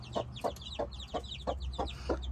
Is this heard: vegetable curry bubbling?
no